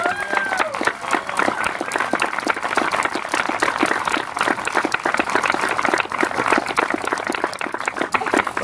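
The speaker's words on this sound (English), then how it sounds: "Give yourselves a round of applause." Audience applause at an outdoor cancer benefit, a dense, loud wash of steady clapping and crowd noise that carries on without a break.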